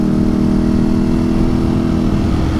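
A Ducati motorcycle with a quick shifter, engine droning loud and steady up close while riding, a constant mid-pitched hum with no clear breaks for gear changes.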